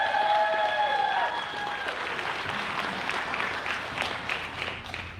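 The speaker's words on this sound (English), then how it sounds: "So please give a round of applause" Audience applause at a live startup pitch event, broad clapping throughout with a high tonal whistle-like sound at the start fading within the first second or so.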